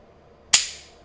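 An Umarex Colt Peacemaker CO2 air pistol dry-fired once, giving a single sharp metallic snap that rings briefly and fades, close and alone in a quiet room.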